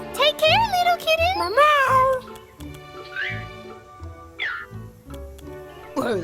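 A cartoon kitten meows in a series of high, wavering cries, loud and close at the start, then shorter mews spaced out over a soft rhythmic background music beat.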